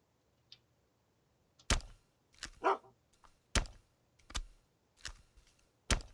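A dog in the video game UnReal World gives sharp, separate alarm barks at irregular intervals, clear and close against an otherwise quiet background.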